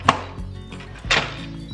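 The lid of an 8-quart Instant Pot Ultra electric pressure cooker is twisted and locked shut, giving two short plastic clunks about a second apart, close and fairly clear.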